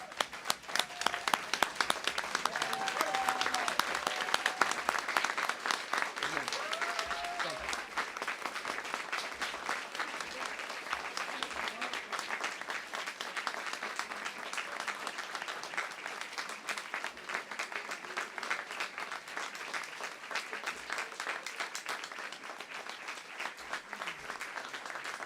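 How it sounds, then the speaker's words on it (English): A commencement crowd rises in a standing ovation, its dense applause rolling on steadily for about twenty-five seconds, with a few faint whoops and voices now and then. "So I would like this to give a bigger round of applause"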